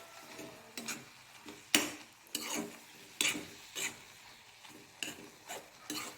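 Soft, melting taro and tomato stirred in a pan for Assamese kosu pitika, with a low sizzle and a series of distinct scraping strokes at an irregular rhythm, close but fairly quiet.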